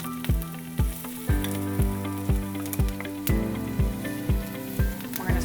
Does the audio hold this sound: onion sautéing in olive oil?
yes